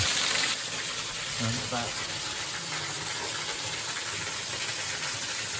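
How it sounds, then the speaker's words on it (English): Waterfall at Maspie Den near Falkland, Fife, heard as a steady broadband rush and hiss throughout, with a person speaking briefly over it near the start. "I've made it to the waterfall."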